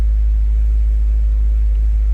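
A 2013 Chevrolet Corvette 427 idles just after a cold start, a constant deep, heavy rumble close by with no change in rhythm.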